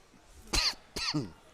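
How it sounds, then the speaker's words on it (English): Two quick, harsh coughs close to the listener at a pool match, the second slightly broken, in an otherwise quiet moment. "You reminded me of that and I started coughing."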